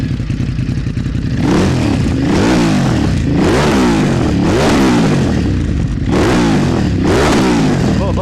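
A Ducati DesertX motorcycle engine fires up and its exhaust blasts through a series of sharp, loud revs, each surge climbing and dropping, close by with no talking.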